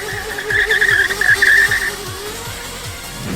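An electric drift kart slides with its tires squealing in a long, loud, steady screech over a rhythmic motor whine, the squeal easing off after about two seconds while the kart keeps running close by.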